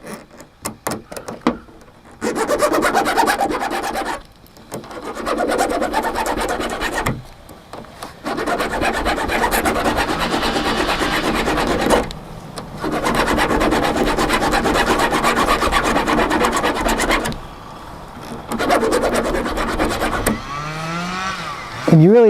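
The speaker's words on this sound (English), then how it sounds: "all I've got is this little flat file, I'm just going to set stuff on the tailgate" A small flat file rasps against a chainsaw chain resting on a truck tailgate, sharpening it for limbing work. The close, steady grinding strokes run in long bursts separated by brief pauses.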